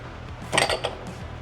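An oil filter wrench is fitted onto the oil filter of a 2024 Indian Pursuit motorcycle, giving a short cluster of two or three close metallic clinks in the middle of an otherwise quiet moment.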